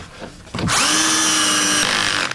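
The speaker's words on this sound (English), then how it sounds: "I'll get a couple of screws in near the end" A power drill drives a pocket hole screw into a wooden drawer side, a close, loud whine lasting about a second after a brief start, then stopping.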